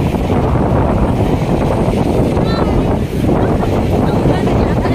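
Strong wind roars and buffets the microphone without a break at Manila Baywalk Dolomite Beach, a loud, low rumble with a faint murmur of voices underneath.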